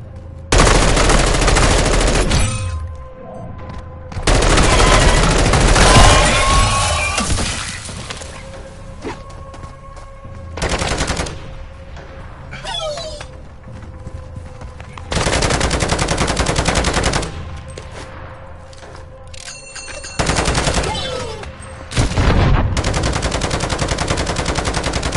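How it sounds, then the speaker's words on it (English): A deployed sentry gun in a zombie video game fires in long, loud automatic bursts separated by brief quieter gaps, rattling steadily across the stretch with occasional crack and shatter-like hits. "Sentry gun deployed."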